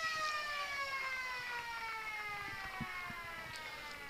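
Final siren sounding at the end of an Australian rules football match at a regional sports ground, a sustained wailing tone with gliding, descending harmonics held for several seconds over faint crowd and field noise.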